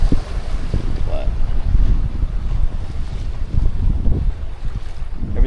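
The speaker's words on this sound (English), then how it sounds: "It's very light wind, surfing the waves, catching the light wind" A sailboat moves through waves in very light wind, with continuous rushing water and gusty wind buffeting the microphone at close range in a steady, loud wash with no talking.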